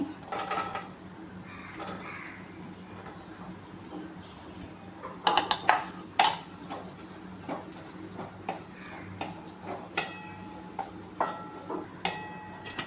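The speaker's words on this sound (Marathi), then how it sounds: "कढईमध्ये थोडंसं तूप टाकून इथे मी अंजीर आणि मनुके आहे ते परतून घेते" Figs and raisins stirred in ghee in a kadhai give off scattered metallic scrapes and clinks of a utensil against the pan, with a brief louder cluster in the middle, over a steady low background hum.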